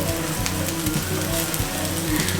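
Beet patties sizzle in oil in a pan, a steady soft crackling hiss with scattered pops, fairly quiet and continuous.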